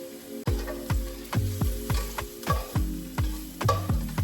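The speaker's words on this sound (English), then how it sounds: "the onions to kind of caramelize a little bit on here before I add these veggies in" Onions cooking in a pan for caramelizing, with a soft sizzle under repeated rhythmic scraping strokes of a utensil across the pan, about ten in a row, close and with no talking.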